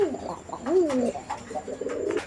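A single pigeon cooing up close, several rising and falling throaty coos in quick succession, clear and fairly loud over a quiet background.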